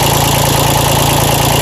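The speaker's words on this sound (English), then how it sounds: "I'm not sure if that's a lifter sound" A Mitsubishi K3D diesel in a 1993 Toro Groundsmaster 325d idling close up, a loud steady chug with a regular rapid clatter ticking over the low rumble throughout.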